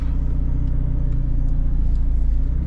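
A car shifted into drive moves off at night, a steady low engine rumble and hum that continues at an even level with no clear revving, no voices.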